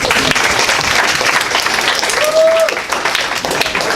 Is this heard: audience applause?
yes